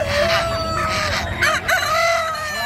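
Native chicken rooster crowing up close, a loud drawn-out call with a wavering tone, among other fowl clucking nearby.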